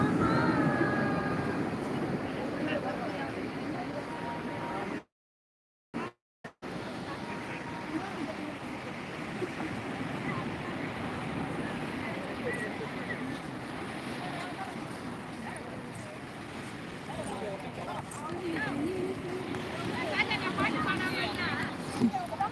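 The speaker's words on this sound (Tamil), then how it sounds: "கடல் அலைகள் பாரு" Sea waves on a beach, a steady wash of surf mixed with wind buffeting the microphone, broken by a brief dropout, with a person talking over it.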